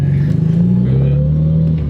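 A Mitsubishi Evo 9 tuned with a Link ECU holds a steady, loud low engine drone on launch control, the revs hovering with slight rising and falling, while people talk inside the car.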